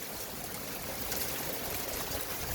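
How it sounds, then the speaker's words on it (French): Hail and heavy rain pour down steadily during a strong spring thunderstorm at Montady, making a continuous dense hiss and patter at even loudness throughout, with no voices. "Il grêle."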